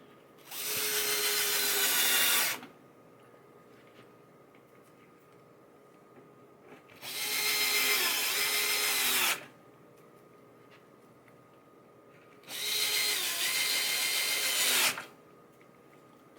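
A power drill drives screws into a 1978 Bally Playboy pinball machine, three loud, close whirring bursts of about two seconds each, separated by quiet pauses.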